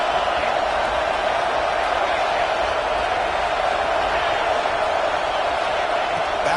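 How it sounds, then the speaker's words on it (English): A packed football stadium crowd roars as a steady, dense wall of noise that stays loud throughout, with a commentator's voice running over the top. "Wow, listen to this crowd noise. This stadium is vibrating."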